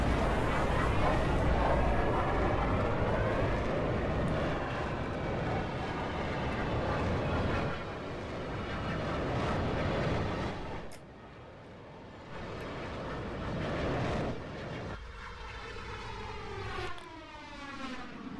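Roaring, droning engines of a six-engine aircraft in the Roblox flight game Aeronautica, loud and sustained with shifting tones and a few abrupt cuts; a voice may be faintly mixed in.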